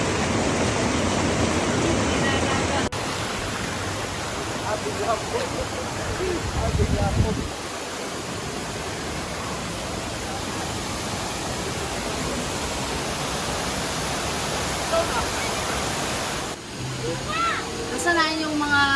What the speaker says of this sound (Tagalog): this is what they call Seven Falls